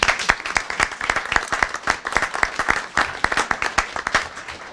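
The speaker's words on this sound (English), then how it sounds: "Let's give Max a round of applause" An audience at a school board meeting claps in a crisp, sustained round, many individual hand claps close together at moderate loudness, with no talking over it.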